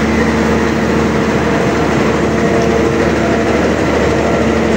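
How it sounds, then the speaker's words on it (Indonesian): The main locomotive of an economy-class train on the Malang–Bandung route in Indonesia idles with a loud, steady low diesel rumble and a constant mechanical drone, close by and unbroken throughout. "Nah, ini lokomotif utamanya"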